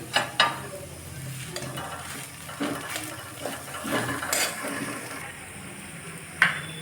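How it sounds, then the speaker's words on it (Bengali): Boiled potatoes are mashed in a pot with salt, chopped green chilli and coriander, giving irregular soft squelches, scrapes and a few sharp taps against the vessel. No voices. "আলুটাকে ভালো করে ম্যাশ করে নেওয়া হচ্ছে।"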